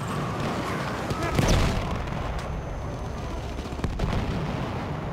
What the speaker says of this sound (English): That mortar. Or is it a grenade?